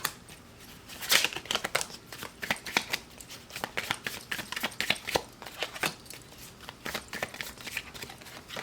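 Tarot cards being shuffled by hand during a pick-a-card reading, heard as a steady run of quick crisp riffles and soft papery flicks at close range with no talking.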